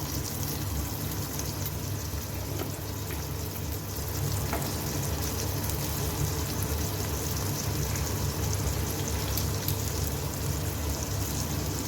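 Spices with salt, turmeric and asafoetida fry in oil in a pan for a village-style rasam, a continuous close sizzle with faint stirring scrapes and a low steady hum beneath.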